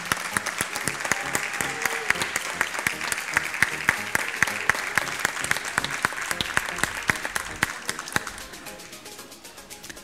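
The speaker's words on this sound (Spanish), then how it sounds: "Fuerte aplauso para Olivia." Steady clapping from a crowd at a kindergarten graduation ceremony, dense and continuous with some sharper nearby claps, fading slightly toward the end.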